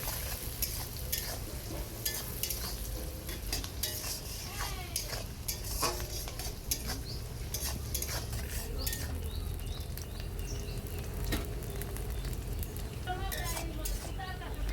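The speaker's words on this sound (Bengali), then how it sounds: "দেখো পেঁয়াজে একটু লবণটা দিয়ে দিলে পেঁয়াজটা তাড়াতাড়ি মজে যায় ভাজতে সুবিধা হয়" Sliced onions with salt fry in a pan with a continuous crackling sizzle, joined by scattered stirring taps and utensil clicks, while a person talks over the cooking throughout.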